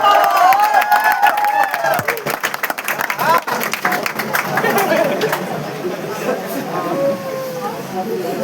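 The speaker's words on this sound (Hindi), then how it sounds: "जोरदार ताली से स्वागत।" Audience at a Teachers' Day celebration in a business college hall applauding a guest invited onto the stage: loud, dense sustained clapping with crowd chatter and a few cheers mixed in, continuing steadily throughout.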